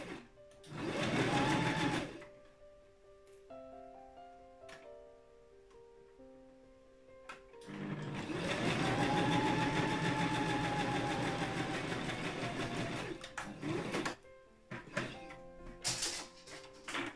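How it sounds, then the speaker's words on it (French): A home sewing machine stitches a shirt's fabric and bias binding in two bursts, a short whirring run followed by a longer steady hum, with brief pauses and small clicks between them. "Et je viens continuer à coudre."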